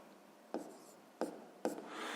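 Pen strokes on paper as a sixth-grade maths solution is written out: three short, crisp scratches spaced apart, close and soft, ending in a light rubbing sound.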